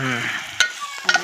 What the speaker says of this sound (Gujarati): અને થોડી તેલમાં શેકી નાખી 10 મિનિટ